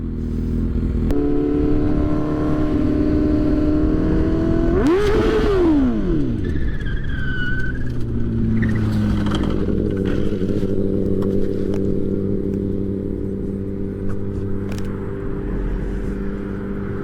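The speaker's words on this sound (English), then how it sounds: "The back tire locked up on me while I was riding" A motorcycle engine drones steadily while riding, then briefly surges and drops sharply as the back tire locks up, with a short high squeal before the engine settles back into an even hum.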